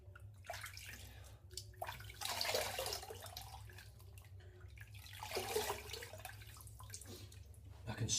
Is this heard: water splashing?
yes